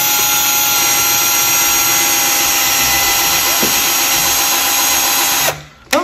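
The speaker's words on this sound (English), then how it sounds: "So it's just me drilling a hole." A power drill fitted with a 1 1/8 inch bit bores a hole through a kitchen cabinet, whining loud and close for about five seconds before cutting out abruptly.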